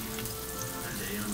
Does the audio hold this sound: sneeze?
no